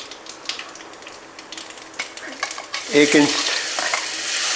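Cumin seeds crackle in hot oil in a home kitchen pan, with light stirring scrapes, then a louder hiss and sizzle swelling near the end.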